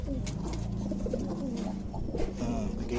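Pigeons coo close by in low, throaty, repeated rolling calls over a continuous background murmur.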